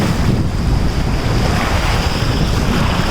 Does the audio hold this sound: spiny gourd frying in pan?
no